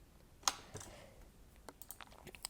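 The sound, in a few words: computer keyboard keys pressed to move game sprite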